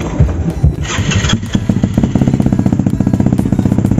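A motorcycle engine cranks with rough clattering turns, then catches and settles into a steady, loud, rhythmic idle with regular thumping pulses, heard close up without talk.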